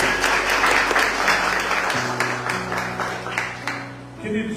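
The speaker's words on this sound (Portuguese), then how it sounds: "Aplauda o Senhor Jesus mais uma vez." Church congregation clapping together in worship, a full, even wash of applause over sustained keyboard notes that change pitch midway, tapering off toward the end.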